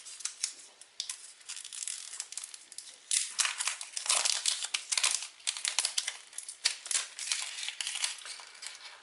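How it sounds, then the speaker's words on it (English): A new smartwatch's protective cover is peeled and pulled away. Close, continuous crinkling and crackling plastic rustles with brief louder bursts, with no talk. "let me now pull up the cover first."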